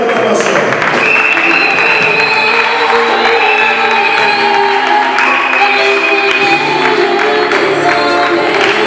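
A large crowd applauds and cheers loudly and continuously, with whoops and shouts rising over dense clapping that fills the whole stretch.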